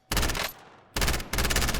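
Rapid bursts of automatic gunfire in Call of Duty: Warzone, two loud volleys separated by a short quieter stretch, no voices.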